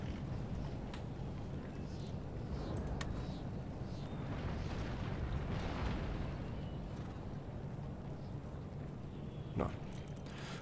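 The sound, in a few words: cannon fire in video game Empire: Total War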